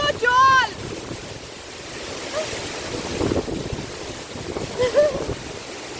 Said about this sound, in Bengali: এখানে রীতিমতো বুঝতেই পারছো নিশ্চয়ই জলের ফোর্সটা কেমন